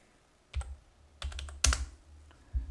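Keys struck on a computer keyboard during After Effects work, a few separate sharp taps spaced apart with one louder strike near the middle, close and clear in a quiet room.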